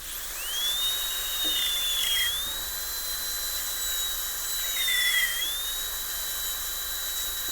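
High-pitched whine of a dental drill fitted with a new 330 burr while cutting a class II slot prep in a tooth, holding steady with two brief dips in pitch, close and continuous.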